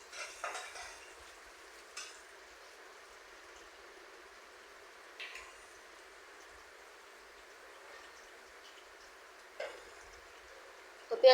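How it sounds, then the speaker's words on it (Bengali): Onions frying in a pan on a stove, with a soft steady sizzle beneath a few sparse scrapes and clinks of a utensil stirring them, quiet and close with long gaps between strokes. "তো পেঁয়াজটা একটু নেড়ে চেড়ে"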